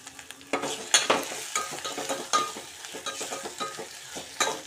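Onions frying in a pan for a horse gram stir-fry, with clattering stirring and scraping over a steady sizzle, a sharp clatter near the start and another toward the end.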